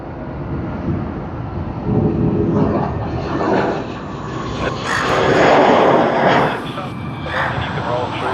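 An airliner takes off at Sydney Airport, a loud sustained engine roar that swells and surges as it rolls by, with people talking over it.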